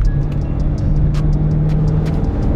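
A big Jeep SUV's engine pulls hard under acceleration, with a loud, steady low drone and a sustained tone from start to finish, heard from inside the vehicle.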